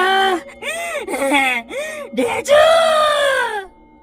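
A voice imitates a cartoon donkey braying and crying out in an animated series, with several drawn-out, wavering calls rising and falling, loud and close, ending in a long wail.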